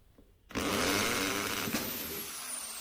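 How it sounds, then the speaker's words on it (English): A Bosch GBM 13 RE Professional drill bores a hole in plastic, starting abruptly from near silence and running loud and steady as the bit cuts through. "you can see within seconds the hole has been drilled"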